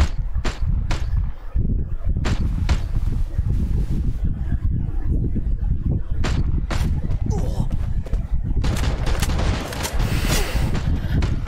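Gunfire in a battle royale video game during a Piala Pemuda Kemenpora tournament match: repeated sharp shots and bursts crack throughout at close range, with a live commentator's voice running underneath the whole time.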